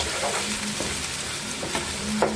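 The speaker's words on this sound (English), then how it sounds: "we're just going to saute these" Prawns sauté in a hot pan with a continuous close sizzle, dotted by light scrapes and stirring movements.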